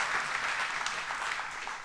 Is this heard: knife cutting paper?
no